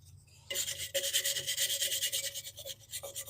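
A wire brush scrubs rusty metal in a run of fast, rhythmic rasping strokes, close and fairly crisp, starting after a brief quiet moment and ending in a few separate scrapes.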